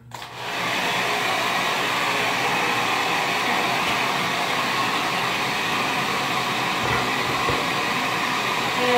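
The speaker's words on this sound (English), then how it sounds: "And then we can go ahead and get blow drying." A hair dryer switches on and blows hair dry, a loud, steady, close roar of fan and rushing air that holds unbroken for several seconds.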